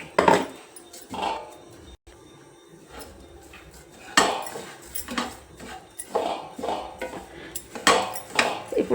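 Ground dry fruit powder tipped from a mixer jar into date paste in a pan, with a few close metallic clinks and scrapes of a spoon against cookware, coming in short irregular bursts with quiet gaps between.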